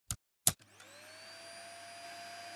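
A Dyson Small Ball upright vacuum switches on after two sharp clicks, its motor spinning up into a steady, loud whine and hum that holds close and unbroken to the end.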